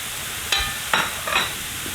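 Mushrooms with thyme and rosemary fry in a pan, a steady sizzle broken by three brief bursts of stirring or scraping, close and alone.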